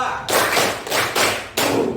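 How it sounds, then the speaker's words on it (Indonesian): A group of people at an Islamic religious education lesson claps together in a rhythmic routine, giving a few loud, sustained bursts of hand claps separated by brief pauses, close by with no talking. "Kita semuanya tepuk 1 2 3 dulu"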